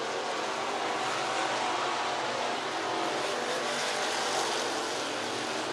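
Dirt-track race cars roar around the I-75 Raceway oval in Niota, Tennessee, a dense, steady engine drone heard from a distance with no clear individual passes.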